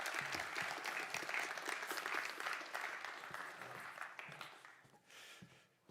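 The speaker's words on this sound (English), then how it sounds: "big applause" A roomful of people at a conference claps steadily for a speaker, a dense round of applause that gradually thins and fades toward the end.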